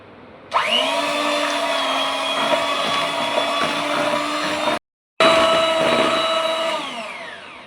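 An electric beater whirs loudly and steadily as it beats eggs for a lemon cake batter. The motor pitch dips briefly with the load, the sound cuts out for a moment, then resumes and slowly winds down.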